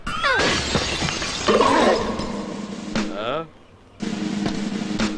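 A glass window shatters after a thrown stone hits it in a Tamil movie scene, with a loud crash and tinkling breakage mixed with dramatic film sound and voices, ending in a brief lull before more background sound.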